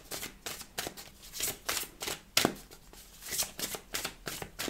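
Tarot cards shuffled by hand for a reading, a quick series of crisp riffling and slapping bursts in an irregular rhythm, close and clear with no talking.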